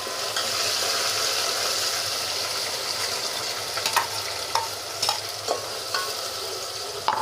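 Masala goes into onions frying in a pan for mutton kofta curry, giving a constant close sizzle with scattered spoon scrapes and clinks toward the end.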